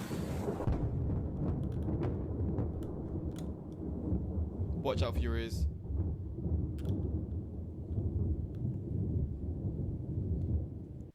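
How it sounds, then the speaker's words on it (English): A massive, very loud thunderclap from a positively charged lightning strike during a nocturnal tornado storm, a sustained rumbling roar under excited talk, with a burst of voices and a brief tonal sound midway. "let out a massive clap of thunder, like a very loud clap of thunder"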